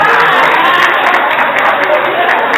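A church congregation applauds a child, a dense, steady wash of clapping with crowd noise and some voices mixed in, loud and continuous throughout.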